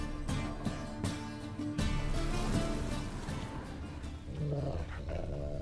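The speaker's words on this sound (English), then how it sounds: "Just beware of the dogs." Dogs growling in The Witcher 3: Wild Hunt on PS4, a continuous low rumbling snarl under game music and ambience, moderately loud with a few sharper bursts near the end.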